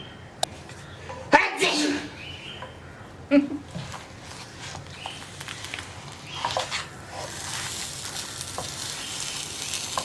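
Pearl spot fish (karimeen) sizzles in a non-stick pan, a soft crackle broken by a few sharp clatters as the fish is turned, with someone talking over it.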